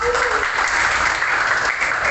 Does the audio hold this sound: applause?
yes